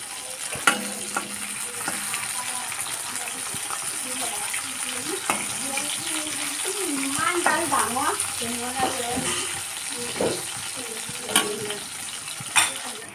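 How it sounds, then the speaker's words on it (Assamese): Pieces of boal fish coated with turmeric and salt sizzle and spit steadily in a hot pan for an Assamese fish and tomato curry, with scattered sharper pops and a faint voice briefly audible in the background. "মাছকেইডোখৰ হাফ ফ্ৰাই হৈ গৈছে"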